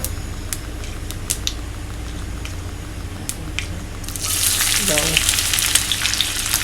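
Onions hit hot ghee, and after light crackles and pops the pan bursts into loud, dense sizzling that carries on to the end.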